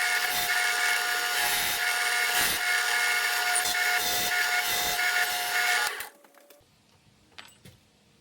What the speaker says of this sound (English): I'm drilling the holes bigger in the channel that I made in the back